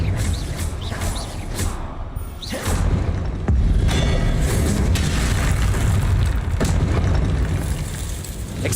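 Confringo blasting curses erupt one after another in a Hogwarts Legacy battle, with loud, close booms and whooshing bursts over a constant roar of combat noise.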